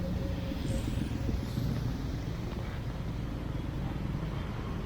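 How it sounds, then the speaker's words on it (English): Road traffic building up during stormy, rainy weather: a steady low rumble of passing vehicles that runs unbroken throughout, with no talking. "The traffic is building up there."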